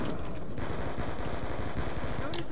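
A Thompson submachine gun in Black Ops 2 Zombies fires in a rapid, continuous automatic burst, loud and close, with a dense stream of shots throughout.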